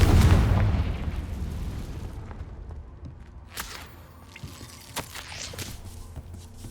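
A Confringo spell explosion in Hogwarts Legacy lands as a heavy booming blast that rumbles and decays over a couple of seconds, followed by scattered smaller pops and crackles of debris.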